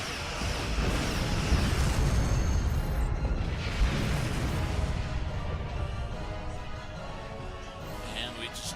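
A starship blows up in Star Trek Online as a rumbling explosion swells and then fades into a low, sustained roar, with a voice speaking over part of it.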